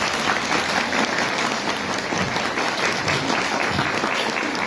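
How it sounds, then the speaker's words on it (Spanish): Audience applause at an education sciences congress ceremony, a dense steady wash of clapping from a large crowd that holds at an even level throughout. "Un aplauso, por favor."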